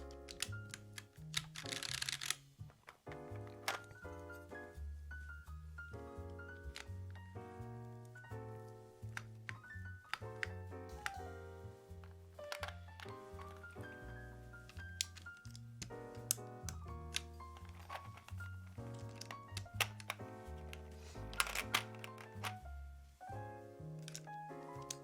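Mechanical keyboard fitted with GMK Muted keycaps being typed on continuously, dense rapid clacks with a steady rhythm, close and fairly loud, mixed with background music.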